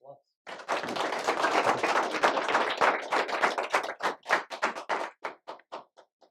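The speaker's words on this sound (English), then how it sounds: "if you all will join me in giving Bryan a round of applause" Audience applause for a speaker at a medical ministry event, starting as dense clapping and then breaking up into scattered individual claps that fade out.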